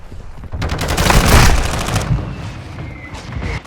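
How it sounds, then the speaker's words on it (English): Mortar strike explosions in Call of Duty MWII multiplayer: a dense, loud cluster of booming blasts and crackling bursts through the middle, fading to a softer rumble with faint game sounds at the end. "Hostile mortar strike incoming."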